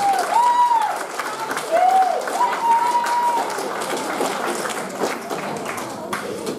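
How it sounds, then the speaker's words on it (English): An audience at a November 2016 graduation talk gives a round of applause: dense, steady clapping that fills the room for several seconds, with a few faint high tonal squeals riding over it. "Is that a round of applause?"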